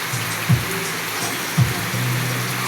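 Heavy rain from Typhoon Basyang pours steadily in a dense, even hiss, with a couple of brief low thumps rising above the downpour.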